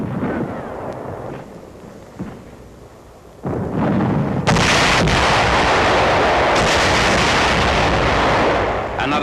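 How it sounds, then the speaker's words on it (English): Satchel charges blasting a cave held by holdouts in 1945 WWII newsreel combat footage, a heavy booming roar that swells after a quieter start and then rumbles loudly and continuously to the end. "Another section being cleaned out by satchel charges."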